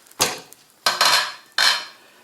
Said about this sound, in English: now we're going to uncover the pizza omelet